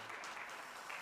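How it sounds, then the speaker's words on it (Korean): Applause from a church congregation at a Sunday service, welcoming visiting couples, a steady wash of many hands clapping at moderate volume, continuous and fairly distant in the room. "우리 박수로 한번 환영할까요?"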